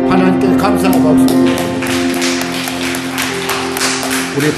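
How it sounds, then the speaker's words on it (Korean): Church congregation at a Sunday service breaks into applause of thanks, a loud, sustained wash of clapping from many hands under an ongoing sung or held tone. "하나님께 감사의 박수."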